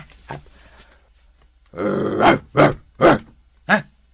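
A police dog growls and grunts in a string of rough bursts, close and loud, after a few quieter sounds at the start.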